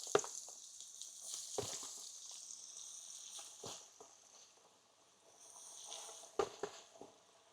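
Alligator gar nuggets deep-fry in oil heated to 350 degrees, a soft steady bubbling hiss broken by a few sharp crackles and pops, close and moderately quiet with no talking.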